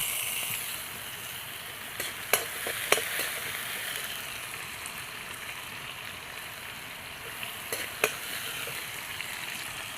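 Coriander seeds, toor dal, cinnamon, cloves and cardamom are sautéed in a hot pan, making a steady bright sizzle broken by a few sharp clinks and taps of stirring.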